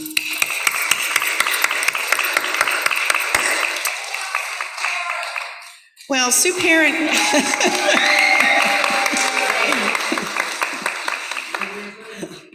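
An audience at a Hope Keepers gathering applauds in a steady, dense burst of clapping that briefly breaks off and then resumes, with a voice speaking over the noise.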